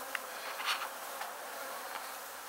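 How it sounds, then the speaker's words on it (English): Swarming bees emerge from a structure during a bee removal, a dense, continuous buzzing hum close by, fairly steady with a few brief sharper flyby accents. "Because we got bees."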